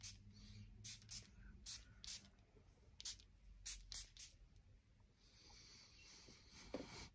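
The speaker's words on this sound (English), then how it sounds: "Let's go spray this thing right now." Frederic Malle Hope perfume from an atomizer gives a quick series of short, soft spray bursts, fairly faint and close, with light handling noise between them.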